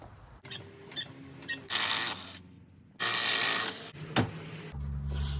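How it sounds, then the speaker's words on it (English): An 11 mm wrench unscrewing a nut on the brake caliper of an E36, close ratcheting clicks in short runs, with two longer loud bursts of ratcheting and a few metallic knocks. "This is an 11 size wrench. I'm just taking that to unscrew it."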